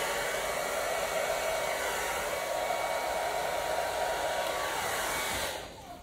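A steady, loud rush of blown air plays over poured water-based paint, holding evenly for several seconds before tapering off near the end, with no speech.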